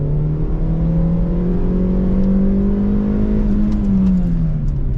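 A car engine climbs steadily in pitch as it revs under acceleration, a smooth, loud, continuous drone that holds for a few seconds before easing back slightly.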